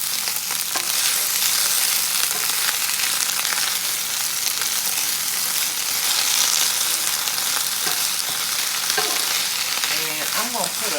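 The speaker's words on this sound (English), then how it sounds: "So what I'm going to do is just saute these greens up." Collard greens sautéing in a pan, a continuous bright sizzle with occasional scraping and stirring knocks, close and steady across the whole stretch with no talk.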